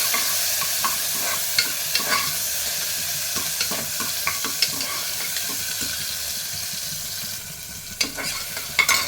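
Onions and tomatoes sizzle in a pan in a steady frying hiss, broken by scattered spatula scrapes and stirring knocks, with a louder clatter near the end.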